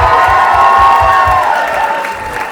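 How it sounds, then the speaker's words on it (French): Congregation at a Christmas church celebration breaks into applause and cheering, a loud crowd roar with clapping and a few whoops, tapering slightly toward the end. "Et est-ce qu'on peut applaudir Jésus?"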